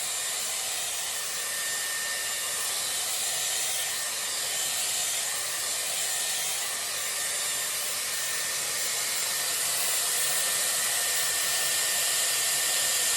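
A Dyson Airwrap with a round brush attachment blows hair dry with a steady, loud, close whooshing hiss that holds constant throughout without pauses.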